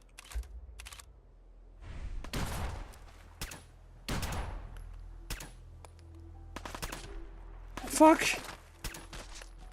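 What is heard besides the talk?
gunfire from the player's gun in the video game Fallout 4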